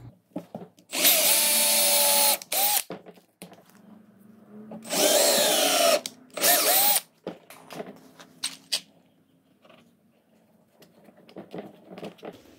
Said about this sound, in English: drill through the box,